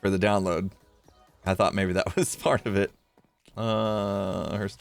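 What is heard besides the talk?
No everyday noises stand out.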